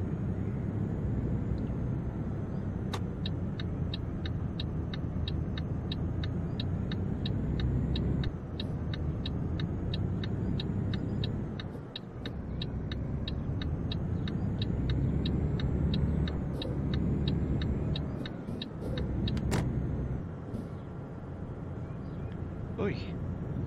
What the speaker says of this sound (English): Nothing like pulling a hill in first gear.